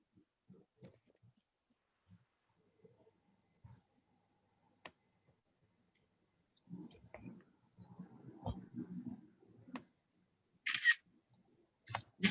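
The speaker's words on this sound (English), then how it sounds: "shutter clicks that I heard before this as well" Sparse, sharp camera shutter clicks sound faintly and far apart during a quiet online session, with a few scattered soft clicks and brief low rustles between them and no voices.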